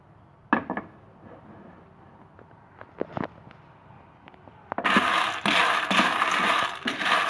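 Dry pasta toasting in a pan over a large gas stove burner, with sporadic clicks and scrapes at first, then a loud, steady crackling rattle as the pieces are stirred and shaken against the pan.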